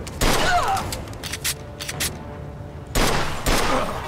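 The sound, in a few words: gunfight in the video game Mafia II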